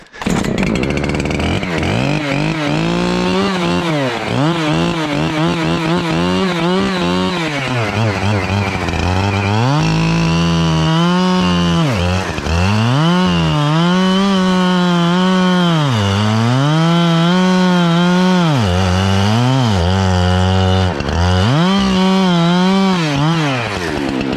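A petrol chainsaw running low on fuel roars loudly and continuously, its pitch rising and dipping as the chain bites into a log and eases off in repeated cuts.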